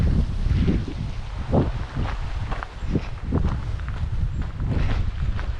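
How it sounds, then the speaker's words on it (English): Gusty wind buffets the microphone on a mountain hike toward a 1984 m Austrian peak, a rough, continuous rush that swells and eases, with faint footstep-like crunches underneath. "It's already a little bit windy."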